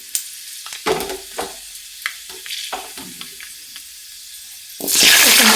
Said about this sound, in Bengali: যেহেতু আলু আর পেঁপে সিদ্ধ হতে একটু টাইম লাগবে, তার জন্য আগে পেঁপে আর আলুটা হালকা একটু ভেজে নেব।